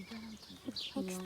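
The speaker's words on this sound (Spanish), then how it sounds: "Que son los que parece que relinchan. Ese ruidito que se oye. ¿Verdad? Pues esos son los milanos." Red kites at a wildlife recovery centre give a brief, high, neighing-like cry amid people talking nearby.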